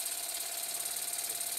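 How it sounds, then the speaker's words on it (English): A model steam engine runs under steam on test: a steady, fairly quiet mechanical churning with an even rapid pulse that holds unchanged throughout, with no voices. "Once again, though, as the engine is running,"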